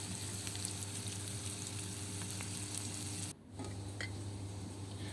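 Marinated mackerel sizzles steadily in a frying pan, a dense, continuous crackle that dips briefly for a moment before resuming at the same level.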